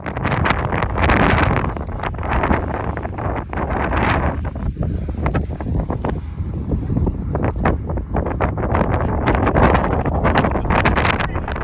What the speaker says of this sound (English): these mountain passes can get very windy